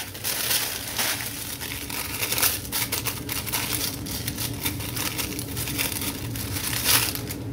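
Scissors cut through folded paper into circles for handmade journaling mail, giving a steady, close run of crisp crinkling snips and rustles with no talking.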